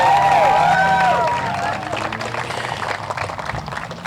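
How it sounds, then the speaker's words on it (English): A crowd at an outdoor Pride flag raising ceremony in North Haven breaks into scattered applause that swells as a speaker's voice fades out, then continues as a dense, moderately loud patter. "Let's give all of these great speakers a round of applause."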